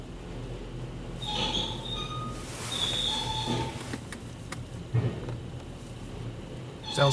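Machinery of a Mark VII AquaJet GTO-700 automatic car wash squeaks and squeals as it moves, with several high-pitched creaks over a steady background of rushing spray and mechanical hum.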